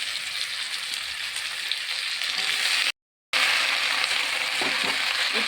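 Malabar spinach greens are stir-fried in a pan with pumpkin and eggplant, a loud steady sizzle with scraping and stirring rustles and one brief dropout midway.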